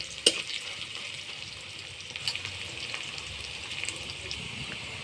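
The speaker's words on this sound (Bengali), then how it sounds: "পেঁয়াজ রসুনটা আমার ভাজি হয়ে গেছে। দেখুন, বাদামি কালার এসে গেছে।" Onion and garlic frying in a pan with salt and turmeric until browned, a soft, even sizzle with a sharp clink at the start and light stirring sounds, fairly quiet and without speech.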